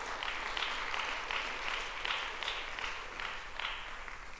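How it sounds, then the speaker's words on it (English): Audience applause at a Snow College convocation, a steady wash of many hands clapping at moderate distance, sustained for several seconds and slowly tapering off. "let's give a last round of applause for Jared Anderson"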